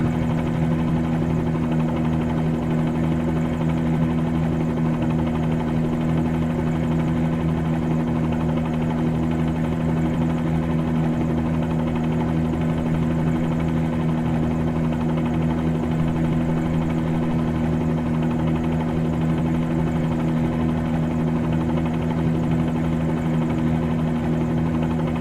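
A helicopter in Microsoft Flight Simulator 2020 flies toward Key West, its rotor and engine making a steady, loud, unbroken drone with no voices over it.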